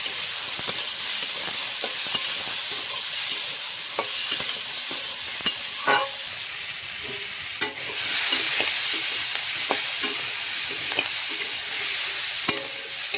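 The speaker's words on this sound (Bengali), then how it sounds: "আলুটা দিয়ে আমি কিছুক্ষণ ভেজে নিয়েছি।" Potatoes fry in a pan, a loud continuous close sizzle with occasional light taps and scrapes of a spatula, no voices over it.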